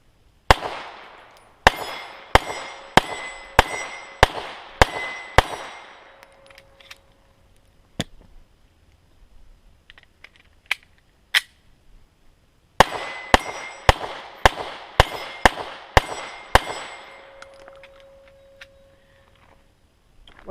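A post-war Walther P38 9mm pistol fired outdoors in two strings of roughly eight rapid, loud shots each, with sharp ringing reports, a few isolated shots between the strings, and no talking.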